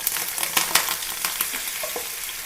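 Marinated pallathi fish frying in hot oil, a close, steady sizzle scattered with sharp crackles and pops, with no talking.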